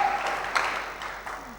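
Church congregation at a Sunday service applauding, a diffuse spread of clapping with a few sharper claps standing out, fairly quiet and fading slightly toward the end.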